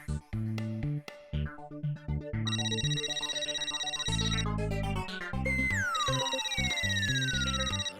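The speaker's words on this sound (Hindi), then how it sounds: "घर के फोन में भी घंटी बज रही" A home telephone rings with an electronic melodic tone, repeated bright chiming phrases playing continuously and fairly clearly indoors.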